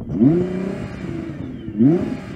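Two sharp sports car engine revs, one early and one near the end, rising quickly then falling back to a rough idle between them, moderately close.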